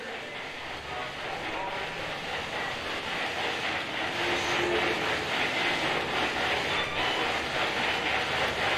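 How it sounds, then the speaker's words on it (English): A train passing by outside at night during a ghost hunt, a broad, steady roar that grows louder toward the middle of the clip and stays loud after that. "The train is coming by."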